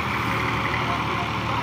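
A tractor engine runs steadily during wheat threshing in a village field, a continuous loud drone without breaks.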